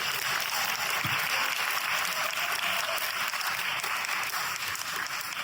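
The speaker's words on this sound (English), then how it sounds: "let's give God a hand clap of praise" A gathered audience at a community event claps hands in praise, a sustained, fairly loud rush of many overlapping claps that continues throughout without any voices.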